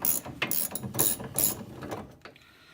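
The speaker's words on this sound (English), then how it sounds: "is the adjusting bolt that controls the ride height with the torsion bar. So I'm going to take that out as well." A ratchet clicks in a few quick bursts as it backs out the ride height adjusting bolt on a Porsche 914 torsion bar, close and fairly loud, tapering off near the end.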